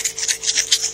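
Rhythmic scratchy rubbing of sandpaper on hardened bondo filler on a car body piece, about five quick back-and-forth strokes, close and fairly loud.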